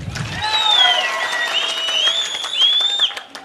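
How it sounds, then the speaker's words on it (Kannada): Audience at a Janata Dal political gathering bursts into applause, a dense continuous clatter of many hands with crowd noise, with a voice faintly heard over it. "ದಯವಿಟ್ಟು ಒಂದು ದೊಡ್ಡ ಚಪ್ಪಾಳೆ ಇದಕ್ಕೆ"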